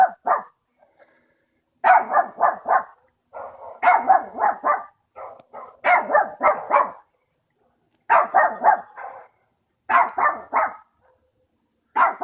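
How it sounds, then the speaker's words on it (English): Small black dog barking in repeated quick bursts of three or four sharp barks, loud and close, with brief silences between volleys and no voices. "That little black dog, wasn't it?"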